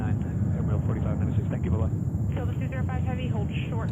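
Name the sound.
Spanish Air Force Airbus A310 aircraft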